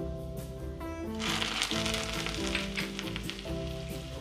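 Loud, continuous sizzling and crackling of cumin and red chillies frying in hot ghee for dal tadka, a dense hiss with a low hum underneath and no talking.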